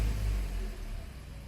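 A 2021 Toyota C-HR engine starting up, a low rumbling idle that holds steady and fairly loud at close range for a moment with no talking.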